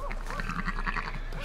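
Several sheep bleat in quick succession over a steady low hum in Red Dead Redemption 2, the wavering calls overlapping closely.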